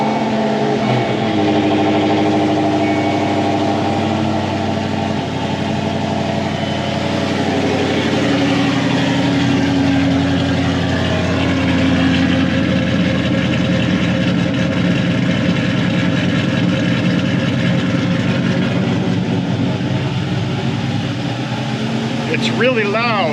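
A 2006 Ford Mustang with no mufflers idles loudly up close, its steady deep exhaust rumble continuing throughout with faint talk underneath.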